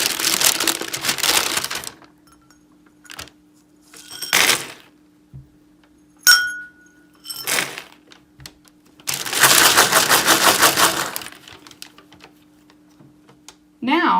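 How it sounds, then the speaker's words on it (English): Forty red and forty white beans are shaken lightly in a paper bag, with bursts of crinkling paper and rattling beans separated by pauses, loud and close. "we'll mix the contents of the bag by shaking it lightly"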